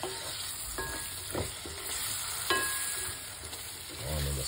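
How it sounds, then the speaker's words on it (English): Seasonings frying in a pot for Jamaican curry okra: a continuous sizzle with occasional scraping and clinks of a spoon against the pot, fairly close and moderate in level. "And then just fry off that beautiful flavor into the pot."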